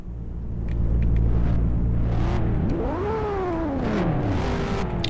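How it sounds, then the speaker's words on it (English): Race car engines in a video game at an oval track rumble steadily, then rev up with rising and falling pitch, loud and continuous with no talking. "Drivers, start your engines."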